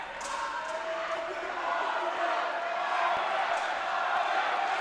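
A wrestling crowd roars in a steady, dense wash of cheering and shouting as it rallies behind a rookie, with occasional sharp thuds from the ring cutting through.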